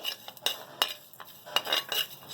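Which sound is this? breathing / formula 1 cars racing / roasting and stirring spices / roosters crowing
roasting and stirring spices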